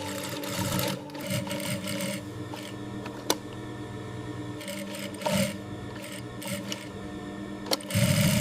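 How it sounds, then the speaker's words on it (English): A sewing machine puts reinforced stitching on pockets of bamboo fabric garments, running in several close, steady whirring bursts with brief pauses and a few clicks between runs, in a quiet workshop. "Pockets are sewn onto garments with reinforced stitching for strength."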